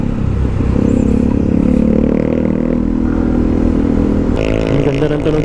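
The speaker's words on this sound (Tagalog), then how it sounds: "Ang ganda ng tunog ng pipe ni Kuya Glenn na motor, ano?" A motorcycle fitted with an aftermarket exhaust pipe rides along a road toward Bato Spring in San Pablo, Laguna, its engine giving a loud, close, steady throaty drone, with a brief change in pitch near the end.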